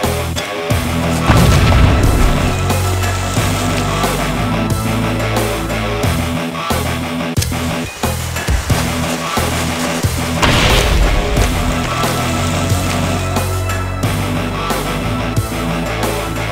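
Repeated grenade explosions in Halo: Combat Evolved, loud booms and blasts layered over continuous dense game noise with gunfire-like bursts throughout.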